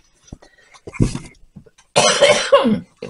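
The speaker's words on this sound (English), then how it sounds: "Why am I coughing today?" A few sharp coughs up close, then a longer rough burst of harsh coughing and throat clearing, loud and broadband.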